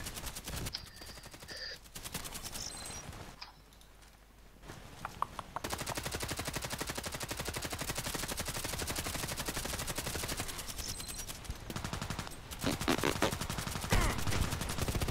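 Desert Eagle pistol fire in the Contract Wars shooter, sharp repeated shots in bursts with brief pauses between, over busy battle noise and other gunfire.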